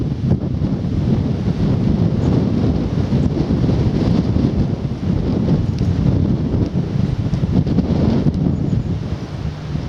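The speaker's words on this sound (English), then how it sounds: "Excuse the wind." Strong, continuous wind buffeting the microphone on a countryside walk near Aylesford, Kent, a loud low rumble with gusty surges throughout and no voices.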